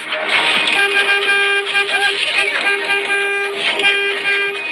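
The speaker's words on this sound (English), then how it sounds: "The tour leader immediately honks his horn to get the group back in the van." A vehicle horn sounds in repeated toots, fairly loud and near, with voices and road noise mixed underneath.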